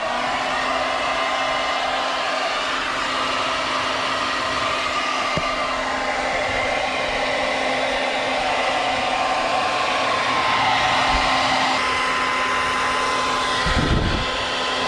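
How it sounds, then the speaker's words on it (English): A heat gun blows hot air over carbon fiber wrap on a Tesla Model 3, making a loud, steady, close-up roar that holds almost unchanged throughout with no talking. "I'm gonna apply some heat now"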